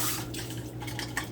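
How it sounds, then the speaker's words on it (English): Water splashes and trickles as an empty cup is rinsed under a tap, a short, close, steady wash with a low hum underneath and no talking. "Let me wash it out real quick."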